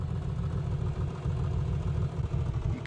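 A Piper Comanche engine in a flight simulator idles very low with a misfiring cylinder, giving a rough, uneven low throb that stutters continuously at close range.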